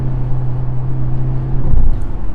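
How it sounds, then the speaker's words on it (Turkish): Low, steady diesel engine hum from a Mercedes C 200 d AMG with a deep tone that swells briefly as the engine revs, heard from inside the car. "dizel olmasına rağmen güzel bir motor sesi geliyor. Tok bir motor sesi geliyor."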